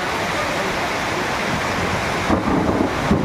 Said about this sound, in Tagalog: May kulog pa.